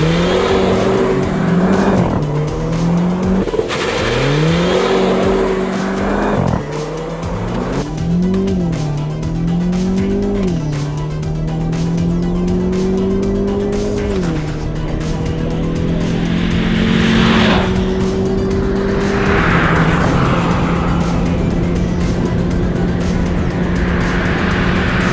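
A Ford Fiesta ST200 and a Renault Clio RS 200 Lux race up a hillclimb course, engines loud and close throughout, revving up and dropping through repeated gear changes, with bursts of tire noise and no talking.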